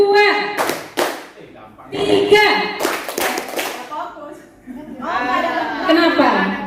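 A classroom group claps hands in counted bursts during a focus game, sharp sets of claps separated by pauses, with a voice calling numbers and some chatter and laughter between them.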